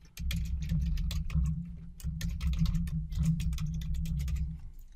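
Typing on a computer keyboard during a server installation: a steady run of quick, close key clicks with short pauses over a constant low hum, with no talking.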